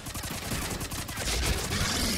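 Sustained gunfire in the Mass Effect trilogy's Leviathan mission, a dense stream of rapid, overlapping shots and impacts, close and loud without pause.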